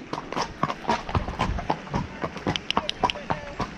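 Hooves of a horse clip-clop steadily along an autumn trail during a trail hunting outing, a brisk, fairly close rhythm of sharp hoof strikes with faint background noise.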